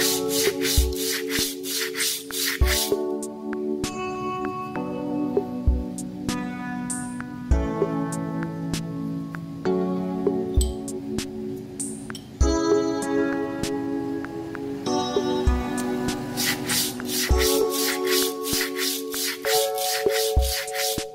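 Rhythmic rubbing strokes of abrasive sanding across the rear brake disc surface of a Suzuki GSX S150 motorcycle, repeating about every two and a half seconds with a gritty, ringing scrape, close and unaccompanied by speech.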